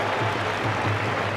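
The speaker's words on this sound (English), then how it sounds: "Well, the Dublin fans applauding" Dublin fans applaud at a Leinster Senior hurling championship semi-final against Kilkenny, a dense, steady wash of clapping and crowd noise filling the stadium for a brief moment.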